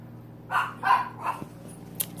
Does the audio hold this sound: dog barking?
yes